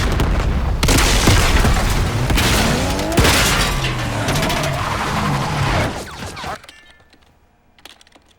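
Gunfire in Call of Duty Black Ops 6, rapid repeated shots and booming blasts over a loud battle din, cutting off abruptly into near silence with a few faint sounds.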